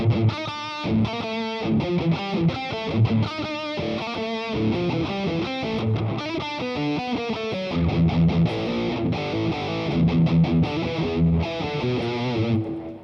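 An electric guitar is played through the tube screamer effect of a Boss Katana MKII amp, producing a crunchy, driven tone in a steady run of strummed chords and picked notes with no talking.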